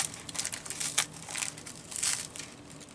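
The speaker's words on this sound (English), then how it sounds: "I thought I would unwrap a little bit and see." A shiny wrapped item for a junk journal Christmas tag is partly unwrapped, with close, quiet crinkling and crackling of the wrapping in irregular bursts.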